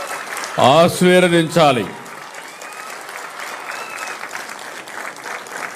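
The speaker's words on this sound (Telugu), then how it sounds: "ఈ 3 కూడా గట్టిగా చప్పట్లు కొట్టి మీరందరూ వారిని అభినందించాలి," Audience applause at a Disabled Persons' Day public event with the Chief Minister breaks out right after a man's brief speech and continues as a steady, moderately loud wash of clapping to the end.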